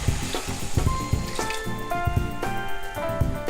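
Egg curry masala for a Malabar egg drop curry sizzles and fries in the pan with crackling pops and light stirring clinks, while background music plays along.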